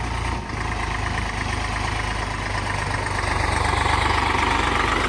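A freshly repaired Eicher 485 tractor's diesel engine idles steadily and close by, a loud continuous low rumble with a faint rhythmic knock that swells slightly toward the end, and no voices.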